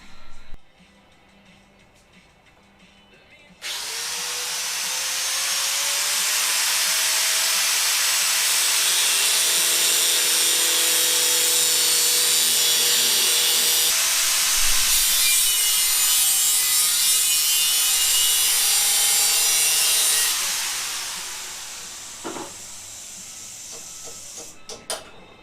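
A bandsaw cuts stainless steel tubing for a CX500 exhaust build, starting abruptly into a loud, continuous grinding hiss close by that holds for about sixteen seconds before winding down, followed by a few small clanks.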